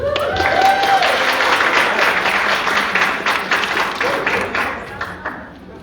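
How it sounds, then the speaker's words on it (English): Audience applause at a speaker-series event, a dense, steady patter of many hands clapping close by that slowly thins toward the end, with a few voices calling out over it. "By a round of applause, who's excited to be here?"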